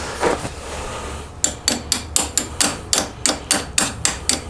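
A makeshift hammer strikes repeatedly while a 1.5-inch Perfex lift kit goes onto a CFMOTO CForce 600 ATV, a steady series of about a dozen sharp, evenly spaced close blows after a quieter start.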